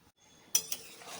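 Water in a pot stirred with a metal spatula while cooking vegetable jol bora: brief silence, then a sharp metallic clink, a second scrape, and a lingering swish of water, close and moderately loud.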